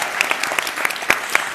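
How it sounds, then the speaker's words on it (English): Brief, sparse clapping from a live talk audience in Los Angeles, individual sharp claps standing out in an uneven patter over little more than a second. "Everyone, give yourselves a round of applause"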